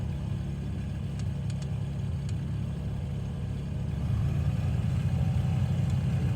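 A light aircraft's second piston engine runs at a steady low idle, a continuous close rumble that swells slightly louder partway through, with faint clicks above it.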